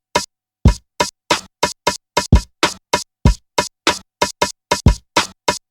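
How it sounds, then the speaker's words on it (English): A pitched-up hi-hat sample triggered on a Roland SP-404 Mk2 sampler in vinyl mode fires as a steady run of about twenty short, crisp hits, loud and close with silence between each. "take this hi-hat sound and I'll pitch it up a little bit"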